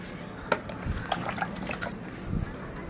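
Water is poured from a small vessel onto potted plants, including a money plant, giving short splashy trickles and a few soft drips at close range.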